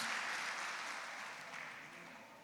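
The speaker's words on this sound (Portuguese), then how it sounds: "As palmas exaltam e glorificam o nome de Jesus." Congregation clapping during a Portuguese-language evening church service, a steady wash of many hands at moderate level that gradually fades over a couple of seconds, with no voices over it.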